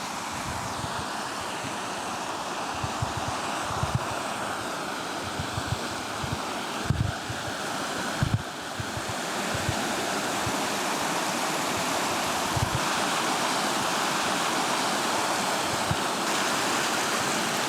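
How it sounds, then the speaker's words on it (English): Mountain river in Jotunheimen National Park rushing steadily over rocks, a loud, close, continuous roar of water with no voices. "look, this is my private river"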